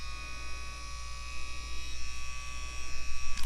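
An Espleé Mani electric nail buffer spinning fast, giving a steady close motorized buzz and hum that grows slightly louder toward the end, with no talking.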